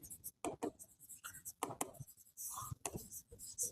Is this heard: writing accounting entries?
yes